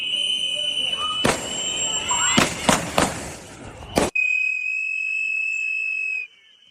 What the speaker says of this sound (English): a shot is fired, followed by at least 9 more shots